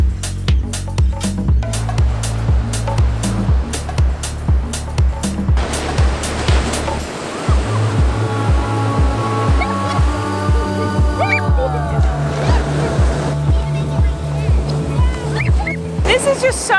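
Ocean waves wash onto a beach in a continuous rolling roar, with a steady rhythmic low thumping and some wind over it, loud and close throughout.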